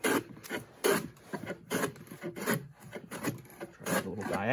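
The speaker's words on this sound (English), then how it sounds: "it's still very capable of planing cross grain" Hand plane shaving green wood across the grain on a Roman workbench, a run of rough rasping strokes in steady rhythm, close and clear with no talking.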